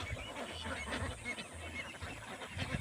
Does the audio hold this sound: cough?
no